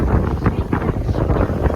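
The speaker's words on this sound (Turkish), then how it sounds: "aşırı bir rüzgar var" Loud, gusty wind roars across the microphone in heavy buffeting bursts on Bozcaada island, Turkey, close and continuous, with no voices.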